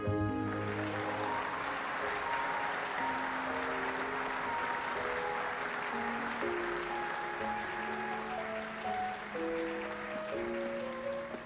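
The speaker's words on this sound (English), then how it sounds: "let us give them yet another round of applause." A crowd applauds at a banquet in The Legend of Heroes: Trails of Cold Steel III, with loud, sustained clapping throughout over background music.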